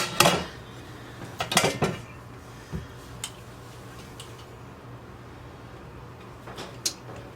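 Glass jars of freshly canned apple butter lifted out of a canner, with a few sharp clinks and knocks of glass and metal early on, then quieter scattered taps over a low background, close and without talk.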